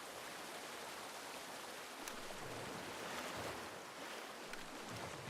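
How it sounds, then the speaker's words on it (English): Rushing water of a waterfall in the video game Once Human, a steady broadband wash with surf-like swells, constant and fairly close, with no voices over it. "Swim up the waterfall."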